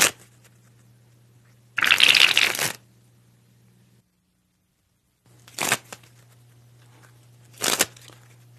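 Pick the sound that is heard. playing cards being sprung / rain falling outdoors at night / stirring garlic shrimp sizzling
playing cards being sprung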